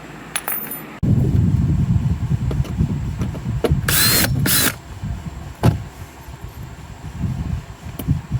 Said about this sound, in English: Then I'll rivet that into place.